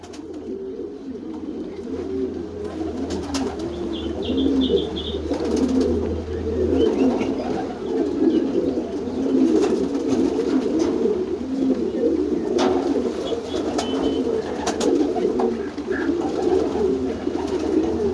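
Homing pigeons in a loft, among them a dark checker bird, keep up a dense, continuous low cooing close by, steady throughout with faint background noise and no talk.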